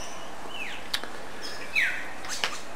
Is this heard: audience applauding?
no